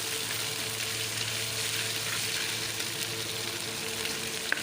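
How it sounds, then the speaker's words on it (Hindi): Steady hissing sizzle of garlic frying in a hot pan, a continuous crackling wash with an occasional small pop, close and unbroken. "लहसुन तो फ्राई हो गया"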